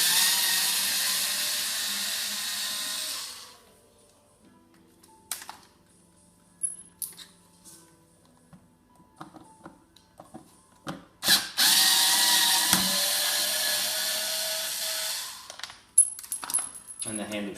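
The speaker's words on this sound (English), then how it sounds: "Just remove your mounting screws." Small mounting screws are backed out of a flapper-style recliner handle, heard as sparse clicks, taps and a ratcheting rattle at close range, framed by stretches of steady hiss before and after.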